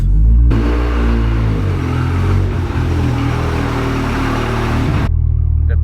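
A Ford car engine starts up loud and close, rumbling and rising as the car pulls away, with a steady drone running to the end.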